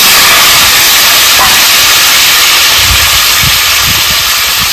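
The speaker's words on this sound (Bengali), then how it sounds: "তেল গরম হয়ে গেছে, দিয়ে দেবো আলু ওলকপি কেটে রেখেছিলাম।" Potatoes and kohlrabi hit hot oil with a loud, steady sizzling hiss that fills the clip, with low clattering and spattering bursts underneath, no talking.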